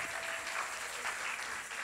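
An audience at a senior variety show claps for the sound booth operator, a dense, steady burst of applause filling a hall.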